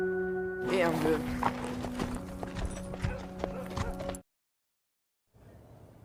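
Two horses led away by cowboys in a Western film, hooves clip-clopping steadily at a walk over a music bed, before the sound cuts to silence and then low room tone.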